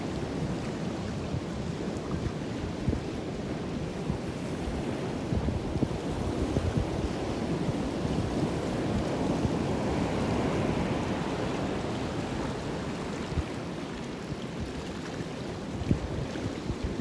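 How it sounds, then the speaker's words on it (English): Ocean surf rolls steadily onto Moonstone Beach in Cambria, California, a continuous loud wash of breaking waves mixed with gusty wind buffeting the microphone, with no voices. "Waves in the background."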